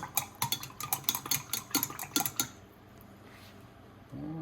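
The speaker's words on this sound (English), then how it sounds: "I'm going to give it a little stir." A spoon stirs yeast into water in a bowl, making quick close rhythmic clinks and scrapes for a couple of seconds, then quiet room noise and a low hum.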